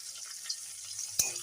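Chopped garlic frying in oil in a pan, along with onion and chilli, for an egg curry with potato and soy chunks: a faint steady sizzle with one brief sharp clatter partway through.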